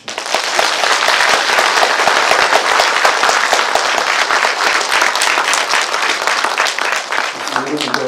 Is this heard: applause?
yes